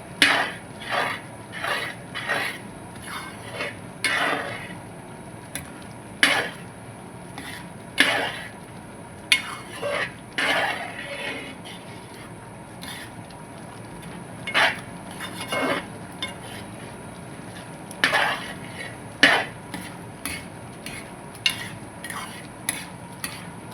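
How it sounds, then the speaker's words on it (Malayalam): Spoon stirring palak (spinach) curry in a pot as it comes to a boil, with irregular scraping clinks and knocks against the metal over a soft bubbling hiss, close and alone. "ഇത് നല്ലതുപോലെ ഇളക്കി മിക്സ് ചെയ്ത് ഒന്ന് തിളപ്പിച്ചെടുക്കുക"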